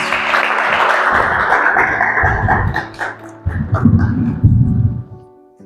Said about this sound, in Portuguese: Uma salva de palmas para a Cris